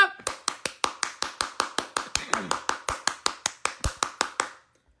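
A single pair of hands claps about twenty times in a steady, even rhythm for a Guardians clap. The claps are crisp and close, then stop abruptly into silence.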